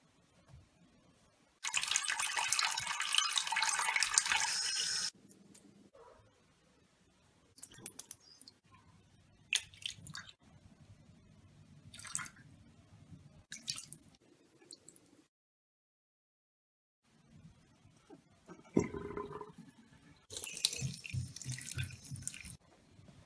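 Water trickles and drips while doll faces from a Monster High customizing makeover are cleaned with a wet cotton swab, with two louder bursts of running water and soft clicks and taps between them.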